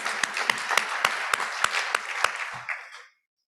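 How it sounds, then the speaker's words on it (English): A short burst of applause from a conference audience with distinct claps in a steady rhythm, fairly close, fading out to silence after about three seconds. "Clap it up for yourselves."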